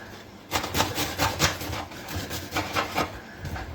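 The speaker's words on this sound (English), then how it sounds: "it's taking roughly around 5 minutes to grate around half a kilo of mango" Half a kilo of mango grated for pickle gives a steady run of close rasping strokes, each a short scraping burst in an uneven rhythm, with no talking.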